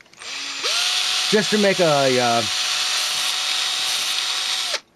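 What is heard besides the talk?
power drill drilling holes in a miniature landscaped pod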